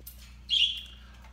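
A pet bird gives one short, clear chirp against a low steady indoor hum, with no talking.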